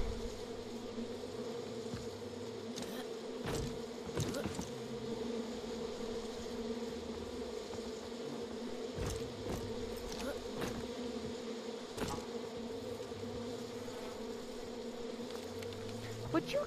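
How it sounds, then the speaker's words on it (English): Steady droning buzz of a bee swarm in the video game Far Cry 5, holding continuously at moderate level with brief sharper clicks and bursts scattered through it. "I do not want to mess with the bees."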